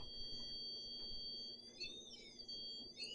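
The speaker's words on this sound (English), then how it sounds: "Yeah, it was just beeping." Steady high-pitched electronic beeping tones from a REM pod ghost-hunting device in a reputedly haunted house, two layered pitches holding level with a slight wobble, over a faint low background hum.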